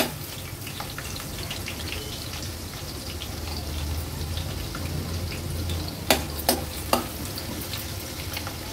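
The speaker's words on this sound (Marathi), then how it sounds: "लसणाच्या पाकळ्या तेलावर थोड्याशा परतून घेऊया।" Ten to twelve crushed garlic cloves sizzle in hot oil for a rustic river crab curry, a steady close frying hiss with a few sharp spatters and pops near the end.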